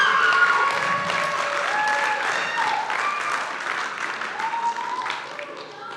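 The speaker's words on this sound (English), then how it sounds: "That deserves another round of applause." An audience claps at a red carpet gala, a full round of applause holding steady and then easing slightly toward the end, with some voices audible under the clapping.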